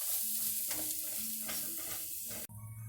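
Garlic and ginger sautéing in a pan for dal, a steady broadband sizzle with soft stirring scrapes throughout, ending in a brief break and a different, brighter hiss at the very end.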